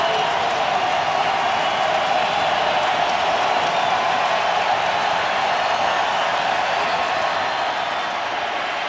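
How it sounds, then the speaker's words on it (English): Dense, steady roar of a football stadium crowd cheering at an NFL game, New England at Tennessee, sustained and loud throughout with no clear breaks, broad wash of many voices at a distance. "And listen to this crowd."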